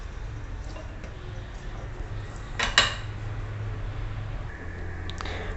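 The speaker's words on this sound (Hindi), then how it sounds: "जो हमने बाकी के हरी मिर्च और अदरक कट करके रखा है, उन्हें भी हम इसी में डाल देते हैं" Chopped green chili and ginger are added to a garlic pickle, with soft clinks of utensils against a dish and a brief sharper rattle midway over a low background hum.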